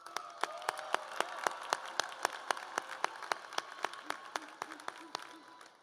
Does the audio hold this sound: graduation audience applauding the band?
yes